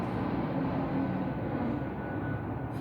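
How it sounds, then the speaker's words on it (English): An airplane flying low overhead, a loud, steady broadband roar that fills the scene and holds for its whole length without fading. "Wow, this airplane is so loud."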